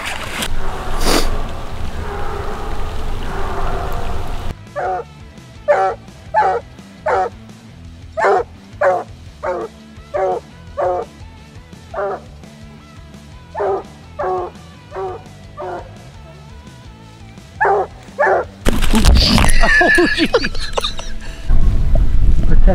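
Coon hunting dogs bark in a steady series of sharp, evenly spaced barks outdoors, with rustling and louder bursts of noise at the start and end.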